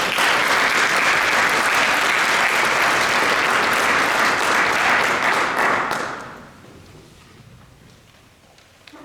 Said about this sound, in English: Let's give one final round of applause for all of our National Honor Society members.